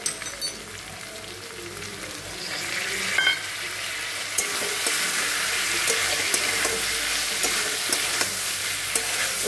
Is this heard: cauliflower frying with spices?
yes